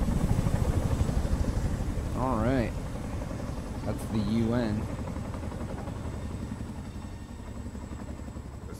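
An oversized helicopter with one giant main rotor and a tail rotor in Metal Gear Survive gives off a steady, droning rotor and engine hum throughout, with brief talk over it.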